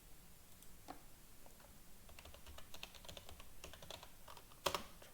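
A file name is typed on a computer keyboard, a quiet run of close, irregular key clicks ending in a slightly louder keystroke.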